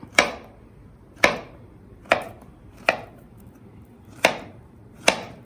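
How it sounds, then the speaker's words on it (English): A knife chops food into thin slices for banana raita, six crisp, evenly spaced thuds on a cutting board, close and clear with no talking. "And just chop it very finely. Thin slices."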